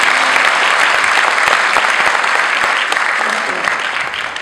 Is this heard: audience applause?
yes